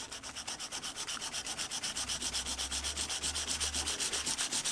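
Steady rhythmic rasping of a Scandi grind knife being hand sharpened on fresh abrasive, about six even strokes per second, close and continuous with no talk, with a low hum joining partway through.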